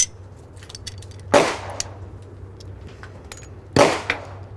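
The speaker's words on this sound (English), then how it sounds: "the slide comes right off" Smith & Wesson M&P pistol slide clacks off the frame during disassembly, two crisp metallic clicks a few seconds apart, close and fairly quiet over faint room hum.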